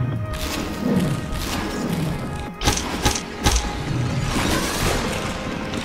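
A thrown bottle striking in SuperHot, heard as a few dull thuds and crashes amid game effects and whooshes, with someone talking over much of it.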